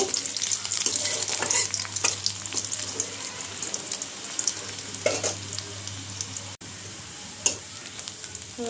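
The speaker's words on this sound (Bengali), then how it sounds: "রসুনটা আমি একটু লাল করে ভেজে নেব" Garlic frying in oil in a pan until reddish, for a dish of stem amaranth greens: a steady, close sizzle with frequent scraping stir strokes and clinks, with a brief dropout near the end.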